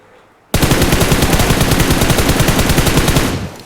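Suppressed automatic gunfire in the mobile game BGMI sounds as one loud, continuous rapid burst of evenly spaced shots. It starts abruptly after a brief quiet moment and runs for about three seconds before tapering off.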